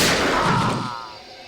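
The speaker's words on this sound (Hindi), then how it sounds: "चली चली चली गोली चली" A single loud, close gunshot booms and then decays into a fading rumble with a reverberant tail, with no talk over it.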